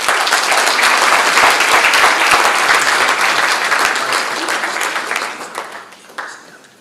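A colloquium audience applauds after a research presentation, dense and sustained for several seconds before thinning out and fading near the end.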